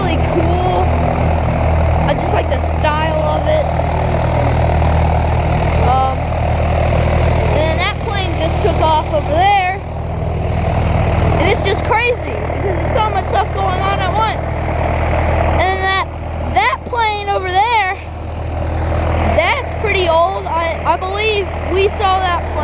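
A Boeing PT-17 Stearman biplane's propeller engine runs at an airport breakfast club gathering before takeoff, giving a steady, close, droning rumble under frequent talk from people nearby.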